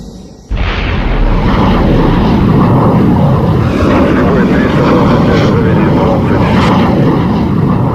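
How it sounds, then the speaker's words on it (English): A MiG-19 jet fighter on a mobile launch site is shot into the sky by a powder booster, a sudden loud roaring blast that holds as a sustained, rushing engine roar. "The MiG-19 mounted on a mobile launch site was virtually shot into the sky with the help of a powder booster."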